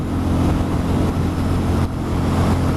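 A 2020 Benelli 400 Imperiale motorcycle cruises at about 70 mph, its engine droning loud and steady with thick rumbling wind and road noise, no speech.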